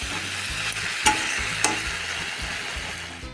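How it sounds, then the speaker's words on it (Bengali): Vegetables and spices fry and sizzle in a pan while being stirred, with two sharp scrapes of the spoon against the pan over a steady hiss, no voices. "এভাবে সবজিগুলোকে ভেজে মশলাটা কষিয়ে নেবে"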